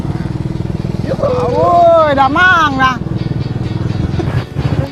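A motorcycle taxi (ojek) engine runs close by with a steady low putter, partly masked by people talking loudly over it.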